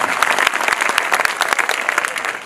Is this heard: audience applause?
yes